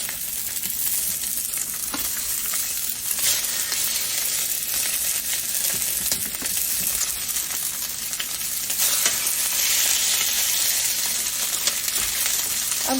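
Pork chops fry in a hot oiled pan, making a steady, dense sizzle that runs the whole time with occasional spits and pops, close and fairly loud, with no talking.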